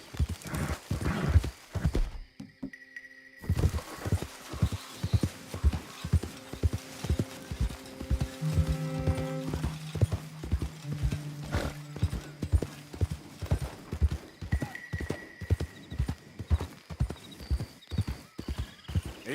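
Steady rhythmic hoofbeats of a horse galloping in Red Dead Redemption 2, close and continuous, with a whinny partway through and a short silent gap near the start.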